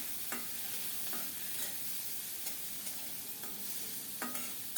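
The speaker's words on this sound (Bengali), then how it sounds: "এখন চিংড়ি মাছগুলো ভেজে নেব লবণ হলুদ দিয়ে" Prawns fry with salt and turmeric in oil, a soft steady sizzle broken by several sharp scraping stirs of a spatula at irregular intervals, fairly quiet and with no talking.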